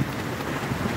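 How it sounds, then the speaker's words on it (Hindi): Heavy rainstorm in Jalandhar, Punjab, a dense, loud, steady roar of pouring rain mixed with wind buffeting the microphone, with no distinct individual drops. "बहुत ज़ोरदार तूफान आ रहा है"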